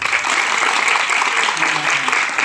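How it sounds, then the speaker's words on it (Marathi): A crowd at a devotional sermon claps steadily and densely for a couple of seconds, with a few voices mixed in under the applause. "आता त्यांच्या गुरुसाठी टाळी वाजवा"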